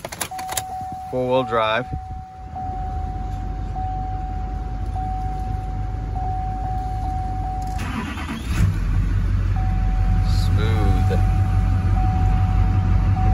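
A 2007 Chevrolet Silverado 2500HD 4x4 diesel truck cranks and starts, then settles into a steady, close idle that grows louder and rougher. Someone talks briefly over it, and a chime rings through the cab.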